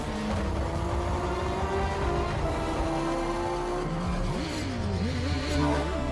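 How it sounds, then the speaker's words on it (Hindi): Motorbike racing at full speed in an action movie stunt scene heading toward a helicopter, a continuous loud engine roar with sweeping pitch shifts and squeal-like tones, dense and steady throughout with no talking. "अक्षय कुमार बाइक को फुल स्पीड में भगाते हैं"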